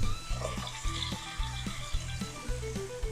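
Ground chuck smash burgers topped with onions fry on a griddle, giving a continuous close sizzle with a low pulsing rumble and occasional scrapes and taps.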